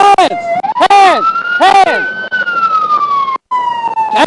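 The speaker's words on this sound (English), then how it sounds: "I'm gonna turn the siren off" An Arkansas State Police car siren wails loud and close, with rapid yelping bursts and a long rising-falling tone, during a felony pursuit stop; voices shout over it.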